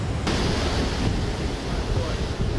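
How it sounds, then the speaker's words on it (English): Rough sea waves surging into flooded streets at Montego Bay, heard as a continuous loud crashing roar of surf mixed with heavy wind buffeting the microphone, with no clear speech. "Definitely some rough seas here in Montego Bay"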